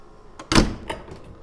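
The door of a Stratasys F Series 3D printer opens with a single sharp mechanical clunk, close and clear, followed by a couple of lighter rattles in a quiet room.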